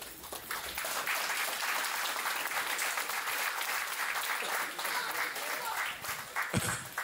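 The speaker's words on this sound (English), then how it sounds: "Round of applause for this couple." Audience at a pastor's 70th birthday and 40th wedding anniversary celebration applauds the couple, a sustained, even roar of many hands clapping throughout, with a brief thump near the end.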